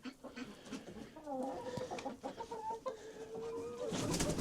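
Hens and small bantam chickens clucking inside a coop, a close overlapping mix of soft murmuring clucks and rising calls that grows busier toward the end.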